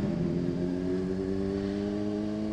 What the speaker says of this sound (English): Let's get that rev up.